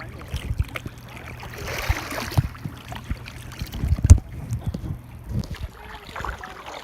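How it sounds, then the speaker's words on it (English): Paddles dip and splash as a raft moves down a river near Leavenworth, Washington: irregular close strokes and water sloshes over a low, constant murmur of flowing water and light wind. "to move ourselves, to paddle ourselves"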